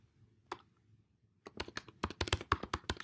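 Typing on a computer keyboard, a few isolated key clicks, then a quick close run of crisp, uneven taps, with no talk.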